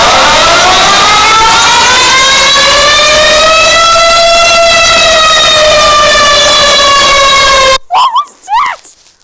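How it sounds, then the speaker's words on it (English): An Emergency Alert System alarm tone blares loud and close as a rich, harmonic, siren-like wail that slowly bends in pitch for about eight seconds, then cuts off into brief voice sounds. "That was the scariest EAS of all time."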